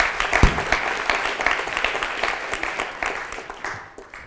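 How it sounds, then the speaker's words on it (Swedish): Audience applause at a conference stage event, a full burst of clapping from a seated crowd that holds steady and then gradually thins and fades out. "Tack. En applåd."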